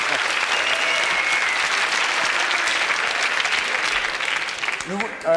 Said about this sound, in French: Enthousiasme de la foule.